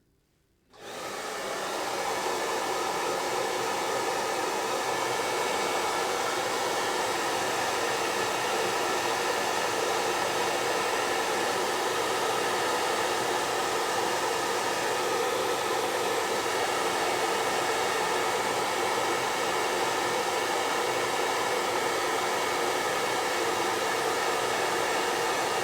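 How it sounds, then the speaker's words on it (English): A blow dryer drying gouache and acrylic paint switches on abruptly and then holds a steady, loud, breathy roar close by for the rest of the stretch, with no talking. "Going to dry that with the blow dryer again, just to speed it up a bit."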